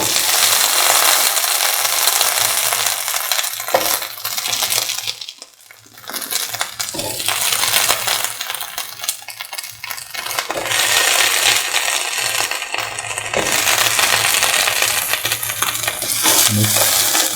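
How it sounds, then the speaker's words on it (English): Okra pieces are mixed and stirred through a potato and coconut milk mixture in a pan, with continuous close scraping, clattering and rattling of a utensil against the pan and a brief quieter pause midway. "Mix the okra pieces with the rest of the mixture."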